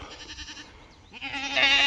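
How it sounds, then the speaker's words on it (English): Nanny goats and young kids bleat while being moved to greener pasture. One bleat rises loud and close at the end over a steady background. "Come on, goat."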